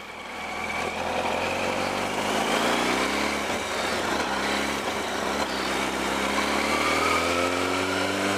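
A Yamaha R1 sport motorcycle with a newly replaced clutch rides along and shifts into second gear. The engine drones loudly and steadily, its pitch dipping briefly at the shift and then climbing again as it pulls away.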